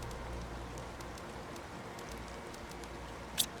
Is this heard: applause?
no